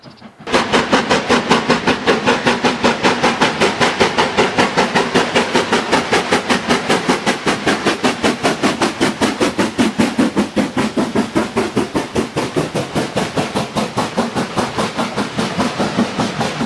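LMS Black 5 steam locomotive 44871 works hard close by, its exhaust beats pounding in a fast, steady rhythm for the whole stretch, loud and unbroken.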